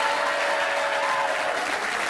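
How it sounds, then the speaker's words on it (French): A French TV game show studio audience applauds loudly, a dense and steady wall of clapping that holds for the whole moment with no speech over it. "on peut applaudir très fort, Maïté."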